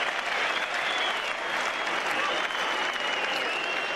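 Test match cricket crowd applauds a boundary in a sustained, even wash of clapping that stays steady for the whole stretch, heard from a distance with no break.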